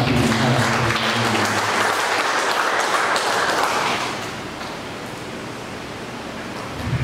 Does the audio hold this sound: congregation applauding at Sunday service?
yes